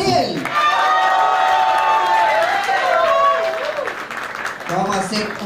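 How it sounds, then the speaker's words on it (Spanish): Audience applause and cheering for costumed contestants on a Spanish-language TV impersonation competition, a dense crowd roar lasting several seconds with whistles and shouts mixed in, and voices calling over it. "Fuerte el aplauso para Adele."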